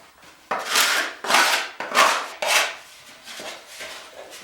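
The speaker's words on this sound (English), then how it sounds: "So I'm going to scrape it all out and put new parchment in it." A tool scrapes out the inside of an old bowlback mandolin in about six rough, rasping strokes. The strokes are close and fairly loud at first and grow softer toward the end, with no talking.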